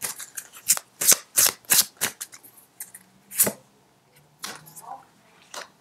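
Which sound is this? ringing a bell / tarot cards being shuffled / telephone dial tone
tarot cards being shuffled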